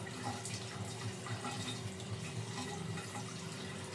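A tap runs steadily while someone washes their face at a sink, a constant soft stream of water with faint splashing, fairly quiet and with no voices.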